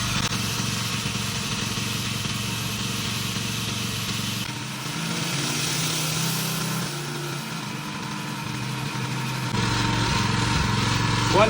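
John Deere 220 E-Cut reel mower backlapping, with the engine running and the reel spinning against the bedknife, giving a steady, continuous mechanical drone with grinding texture that shifts slightly partway through; no talking.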